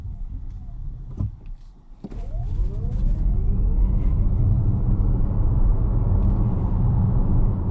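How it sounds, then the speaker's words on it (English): A Toyota bZ4X electric car pulls away hard, a low road rumble swelling quickly as it gathers speed and then holding at a loud, steady roar of tire and wind noise, with a faint rising electric whine. "So we'll do a little bit of an acceleration test just while no one's around."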